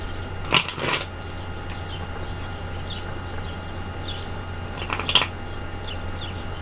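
Two quick bursts of tarot cards being riffle-shuffled nearby, a few seconds apart, over a steady low hum of background noise.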